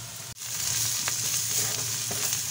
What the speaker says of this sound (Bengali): রসুনটাকে একটু কষে নিলাম, নিয়ে এবারে আদাটাকে দিয়ে দিলাম